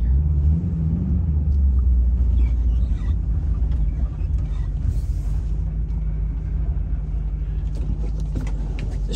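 Steady low engine rumble from a truck driving along, loud and continuous with a deep droning hum and no talking.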